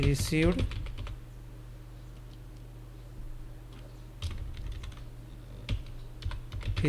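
Keyboard typing into Tally Prime accounting software during school fee entry, heard as sparse, scattered clicks over a steady low hum, with a burst of closer keystrokes at the start.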